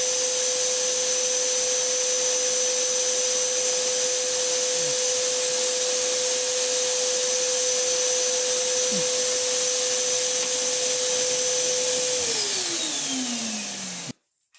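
A vacuum cleaner hums at a steady, constant pitch for a long stretch, then winds down in pitch and shuts off abruptly at the end.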